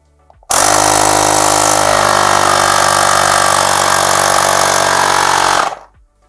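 A Parkcity T2250 car air compressor starts abruptly and runs at a loud, steady, buzzing drone for about five seconds, then winds down as its auto-stop cuts it off, near and alone.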